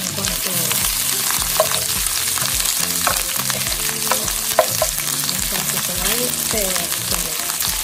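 Onion frying in very hot oil for pork rinds in green salsa: a dense, loud, continuous sizzle with scraping stirs and faint talk in the background.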